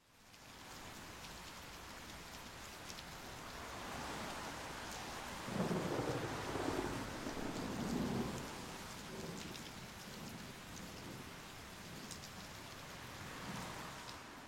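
Steady rain with rumbling thunder falls on an apartment building in Paris, a continuous wash of drops that swells with a louder roll of thunder midway before settling back.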